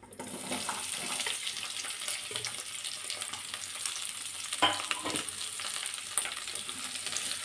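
Chopped onions fry in a pan with a steady, close sizzle and soft stirring scrapes. A couple of brief clinks stand out, and no one speaks.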